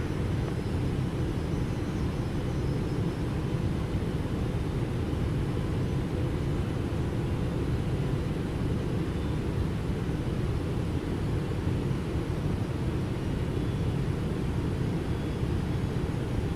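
Steady, loud engine drone and airflow roar from a Boeing 777F cargo jet on approach to Louisville in a flight simulator, continuous and unbroken throughout, with no talking.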